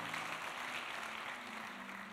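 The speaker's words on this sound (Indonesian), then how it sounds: "Kasih tepuk tangan buat Tuhan Yesus saudara" A church congregation applauding during a service, a soft, steady spread of many hands clapping, faint and distant, with no voices over it.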